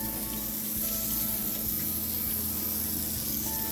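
Water spray rinses a fractal-burned tabletop, a steady, close hiss of spraying water that runs unbroken for the whole few seconds with no talking.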